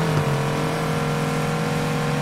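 Car engine at full throttle in Need for Speed Heat, a loud steady high-revving drone that holds a constant pitch for a couple of seconds, alone without talk.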